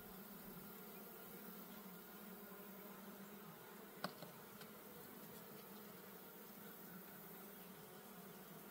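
Honey bees buzzing steadily around an open Layens hive, a dense continuous drone close by with one brief sharp knock partway through.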